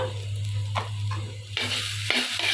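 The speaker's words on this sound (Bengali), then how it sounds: "আমি এই ডাটার মধ্যে সব মশলা দিয়ে দিব দিয়ে একটু বেজে নিব" Vegetable stems frying in a pan with spices, a low steady sizzle under intermittent scraping and stirring strokes, close and moderately loud, with a mains-like hum beneath.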